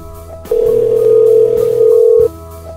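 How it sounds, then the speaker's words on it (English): Phone call placed to one's own number: after a moment of near silence, a loud steady electronic call tone holds for almost two seconds, then cuts off abruptly. "I'm going to call my own number here quickly just to make sure that my number is coming up correctly"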